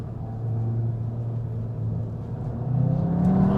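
A 2021 Cupra Leon 300 hot hatch's engine drones steadily and close, then swells as it revs up while the gearbox drops a gear in auto mode.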